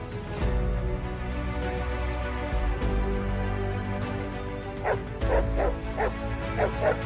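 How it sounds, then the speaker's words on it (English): A yellow dog barking in a meadow near a cow covered in bees, with repeated yelping barks that grow more frequent toward the end, heard over a steady background of music. "The yellow dog barked to call the shepherd."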